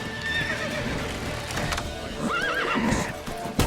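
A horse in The Witcher 3 whinnies in a rising, wavering neigh over steady clip-clopping hooves, with busy game ambience and other sounds filling the background throughout.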